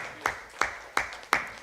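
At a Uganda Sign Language graduation ceremony, four sharp, evenly spaced claps ring out in a steady rhythm, each a crisp moderately close snap with a short decay.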